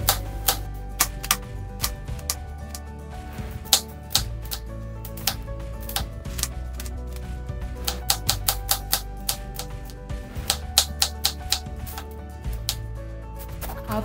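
An onion being finely chopped with a knife on a board for a Spanish omelette: quick, steady clicking taps in bursts, close and fairly crisp, with no talking.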